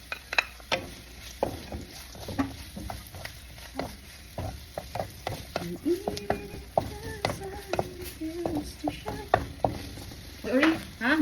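Onion sizzling in a pan during adobo cooking, a soft continuous frying hiss overlaid with frequent scraping and clinking as a spatula stirs the pan, with faint voices in the background.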